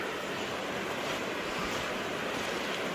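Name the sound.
river flowing water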